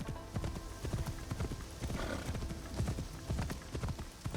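Horse hooves clip-clop in a steady trotting rhythm inside a video game, close and continuous for several seconds with no talk over them.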